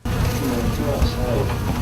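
A large colony of bees buzzes inside a cramped, warm hole in a home's wall, giving a loud, steady, dense drone close by that holds without a break throughout.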